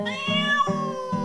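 Several cat meows in quick succession, close and clear, with drawn-out pitched cries separated by brief pauses; no one speaks.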